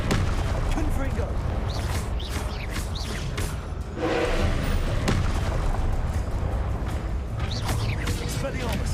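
Confringo blasting curse in Hogwarts Legacy on PS5, heavy booming spell explosions and whooshing magic blasts during combat, loud and continuous with a voice calling out over the action.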